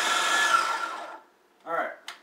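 A food processor mincing cauliflower into faux rice whirs loudly, then winds down and stops, followed by a short burst of speech and a small clatter.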